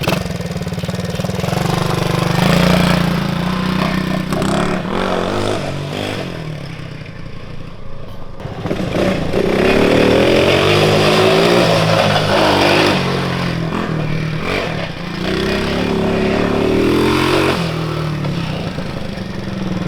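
A Coleman mini bike fitted with a swapped-in 110cc engine runs loud and close, revving up and down repeatedly with a rough, buzzy tone and no voices.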